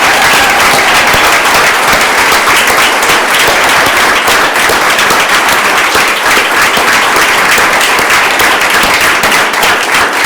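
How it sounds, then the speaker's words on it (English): A large crowd applauds loudly and continuously at a tenure ceremony before a board, dense clapping filling the room with no voices standing out. "if we could have one last round of applause for all of our tenure candidates"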